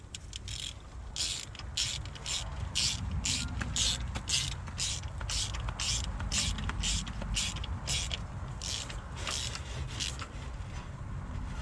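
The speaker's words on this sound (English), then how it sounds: "I'm just going to screw it back in and it should be just about done" An oil pressure switch is ratcheted into a GMC Canyon engine with a fast, even run of close clicks. It is steady and repetitive over a low rumbling background.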